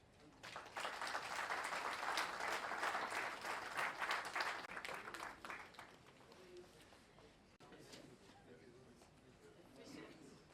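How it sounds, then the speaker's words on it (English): A round of audience applause after a speech, loud and dense for the first several seconds, then thinning and fading into scattered claps and room murmur. "I think we have to give him another big round of applause."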